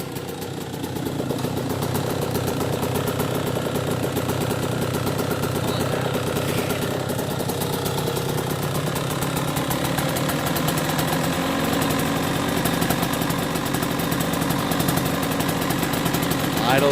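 A motorcycle engine fitted with a newly installed Lectron carburetor idles steadily after its first start without choke, a constant close mechanical rumble and chug lasting the whole stretch.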